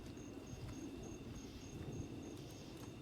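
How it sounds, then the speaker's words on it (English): Crickets chirp steadily in the background, a faint continuous trill of pulsing chirps over a low ambient hum, with no voices. "You can literally hear the crickets in the background."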